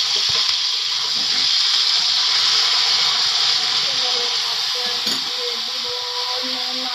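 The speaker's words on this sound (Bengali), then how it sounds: "এখন আমি দিয়ে দেবো টমেটোগুলো, একটুখানি হালকা একটু ভেজে নেব।" Tomatoes frying lightly in hot oil in a pan, giving a steady, fairly loud broadband sizzle and hiss that continues without a break, with faint kitchen clatter beneath.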